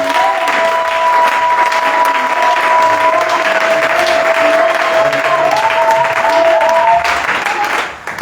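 A church congregation claps loudly and continuously to acclaim the Lord during a sermon, sustained crowd applause with a tonal note ringing through much of it, fading at the end.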